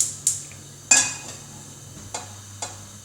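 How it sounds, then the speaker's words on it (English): Soft sizzle of beef stew or curry ingredients frying in a pan on high heat, broken by a few sharp clinks of a utensil against the pan. "hopefully you can see everything frying away"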